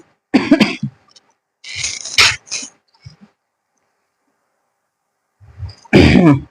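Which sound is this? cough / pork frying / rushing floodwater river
cough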